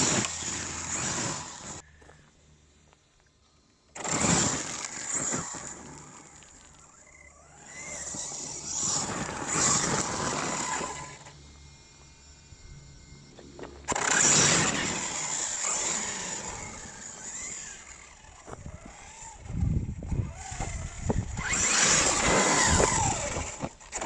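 Hobao Hyper MT brushless RC monster truck on 4S power wheeling hard, with bursts of high electric motor whine and tyre rumble coming and going between quieter gaps, at moderate distance.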